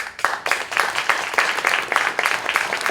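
An audience at a one-person stage show applauds steadily and close by, the dense clapping pulsing gently throughout with no speech over it.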